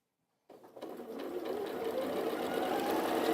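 After a moment of silence, a sewing machine starts up and runs steadily along a seam on a design roll race quilt, a close, continuous whirring hum with no talking.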